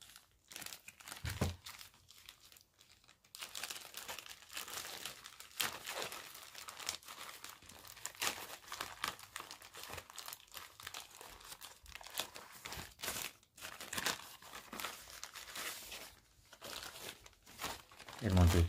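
Plastic packaging of a vlogging kit crinkles, crunches and tears in a busy, continuous stream of close rustling as the parcel is unpacked, with brief quieter pauses.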